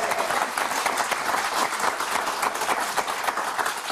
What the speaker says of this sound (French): Et on va applaudir très fort Sabrine et Yasmine.